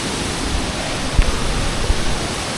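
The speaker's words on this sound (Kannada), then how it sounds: "ಕೆಳಗಡೆ ಇನ್ನೊಂದು ಫಾಲ್ಸ್ ಇದೆ" Rushing water from Vate Halla waterfall near Siddapura, a multi-step cascade, gives a steady, loud broadband roar with no voices over it.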